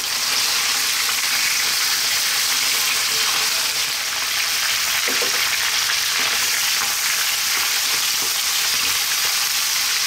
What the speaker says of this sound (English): as you can see and hear, we've browned this meat nicely